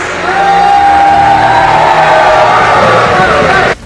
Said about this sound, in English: put your hands together in a warm round of applause for all of you fantastic women of worth